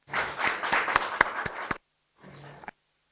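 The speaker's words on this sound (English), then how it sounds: "kindly give a round of applause and welcome our speaker" A small audience at an income tax masterclass gives sparse applause to welcome the speaker, with a few distinct claps standing out, then a pause and a shorter second burst before silence.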